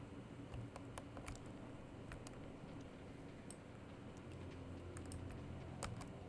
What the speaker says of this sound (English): sorry if you guys can hear the sounds of my keyboard